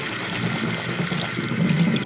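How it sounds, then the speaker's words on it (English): Drained chickpeas being rinsed under a running kitchen tap, a steady close gush of water splashing in a sink without pause. "give them a really good rinse with some water"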